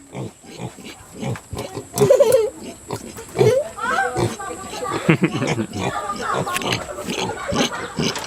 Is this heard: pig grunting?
yes